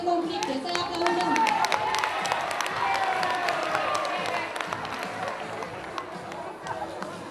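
Crowd applause and cheering at a high school freshman ball, dense clapping filling the room with chatter mixed in, loud at first and easing slightly toward the end while a voice talks over it.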